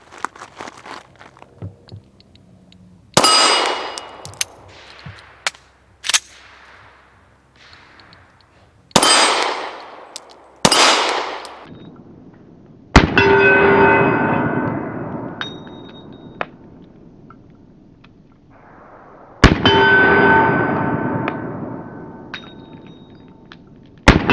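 A Kahr S9 pistol fires through a full magazine outdoors, with widely spaced loud sharp shots, each followed by a ringing decay, about six reports over twenty-odd seconds and no talking.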